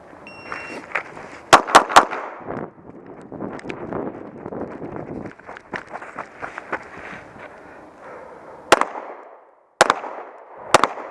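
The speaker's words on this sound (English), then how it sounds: "15-yard shots on the move. I like it. 20-yard shots." Firearm shots ring out at targets twenty yards away on an outdoor range, several sharp, loud cracks spaced irregularly with a close pair early on and more later. A steady rumbling background fills the gaps between shots.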